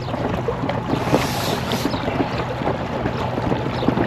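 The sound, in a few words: small boat motor running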